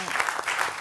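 A studio audience at a Georgian comedy game show claps for a short burst, a dense patter with a hint of voices underneath.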